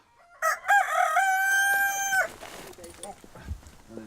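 A rooster on a chicken-breeding farm crows once loudly and near, followed by softer clucking from the flock and scattered background movement.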